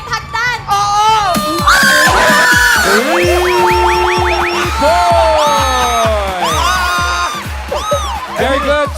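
A contestant on a TV game show lets out shrill, sustained high-pitched screams amid excited crowd shouting and cheering, with loud overlapping voices throughout and a busy studio din behind.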